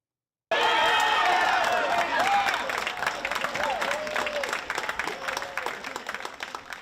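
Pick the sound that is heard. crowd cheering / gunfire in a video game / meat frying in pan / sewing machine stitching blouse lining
crowd cheering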